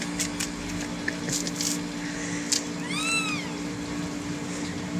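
A cat giving birth meows once, a clear rising-and-falling cry near the middle, over a steady low hum with scattered soft clicks and rustles.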